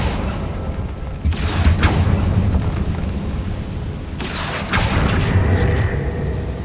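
A Confringo fire spell in Hogwarts Legacy explodes in two loud booming blasts a few seconds apart, each with a rushing fiery roar that fades over a low rumbling background.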